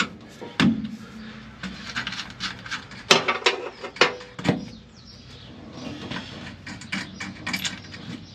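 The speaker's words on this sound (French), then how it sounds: "Alors on va dévisser le chapeau." Plastic oil filter housing cap for a Mann P919/7 filter being unscrewed during a car oil change, giving a run of close ratcheting clicks and mechanical knocks with a few sharper clacks midway, no talking.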